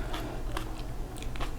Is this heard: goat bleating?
no